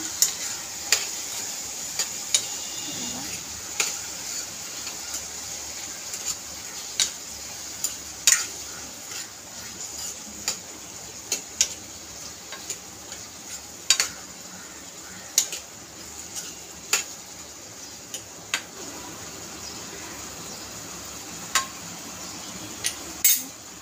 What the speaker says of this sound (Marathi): आता आपण याच्यात टाकून घेतो थोडीशी हळद, चवीप्रमाणे मीठ आणि आता याला मस्त मिक्स करून घेऊ